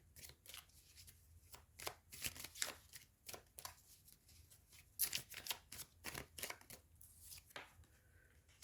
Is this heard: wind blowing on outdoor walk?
no